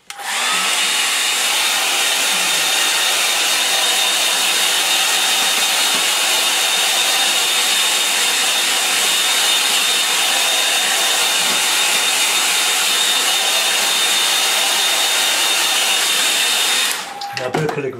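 A hair dryer blows on a painting in one continuous, loud, even whoosh with a steady high whine, running for most of the stretch before switching off near the end.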